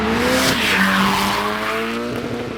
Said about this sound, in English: these vehicles going flat out